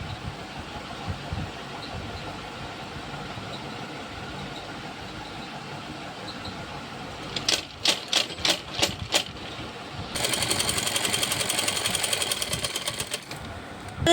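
A sewing machine stitching an Afghani salwar gives a few short stuttering bursts, then a sustained steady run of stitching over a constant background hum.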